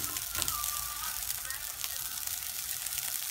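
Quinoa stir-frying in a pan with coconut aminos just added, giving a steady hissing sizzle that runs evenly throughout at a low, close level.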